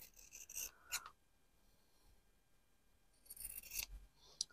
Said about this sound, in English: So I'm going to snip off this dark a bit